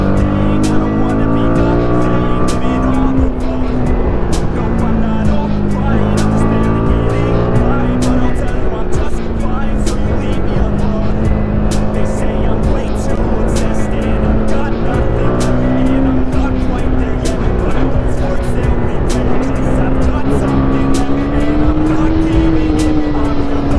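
Two TVS Apache RR 310 motorcycles race side by side, engines droning at high revs with pitch rising and falling through gear changes, loud and constant while someone talks excitedly over them.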